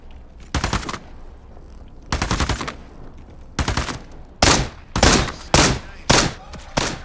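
Gunfire in the video game Into the Radius 2 comes as several loud, close bursts of rapid automatic shots, separated by brief pauses and growing more frequent toward the end.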